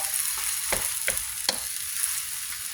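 Vegan crumble keema with onion and tomato fries in a pan under a steady close sizzle, while a spoon stirs it with three or four distinct scraping strokes; no one speaks.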